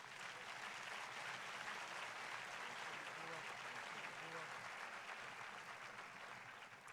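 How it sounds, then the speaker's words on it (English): An audience applauds steadily at an evening lecture event in the United States, a dense wash of clapping held at a constant level throughout, with no voices over it. "please join me in a round of applause for Dr. Camille Charles"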